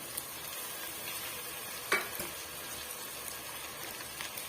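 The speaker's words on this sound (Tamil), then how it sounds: "இந்த ஸ்டேஜில் நம்ம அரிஞ்சு வச்சிருக்க தக்காளி பழத்தை இதோட சேர்த்துடலாம்" Chopped tomatoes fry with ginger garlic paste in a pan for egg biryani, a soft, steady sizzle with a sharp stir or spatula knock near the middle.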